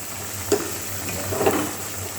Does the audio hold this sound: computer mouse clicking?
no